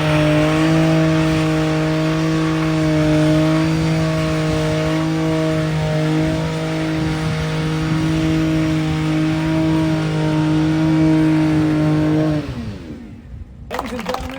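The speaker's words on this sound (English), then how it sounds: "this is the new 2027 Dodge Charger Super B Launch Edition" A 2027 Dodge Charger Super Bee Launch Edition engine runs loud and steady with strong rising harmonics, holding a sustained rev before cutting off abruptly near the end.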